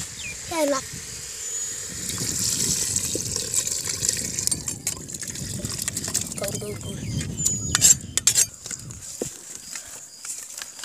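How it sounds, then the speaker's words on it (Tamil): Water splashes and pours close by into a goat leg soup preparation in a village, while people talk over it, with clinks and handling noises scattered throughout. "தண்ணி ஊத்து தண்ணி ஊத்துங்க"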